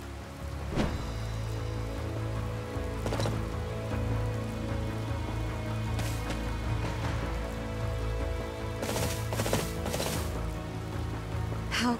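Steady rain falls in the video game Fire Emblem: Three Houses, a continuous loud hiss with scattered sharper splashes and faint tonal background sounds, with no speech.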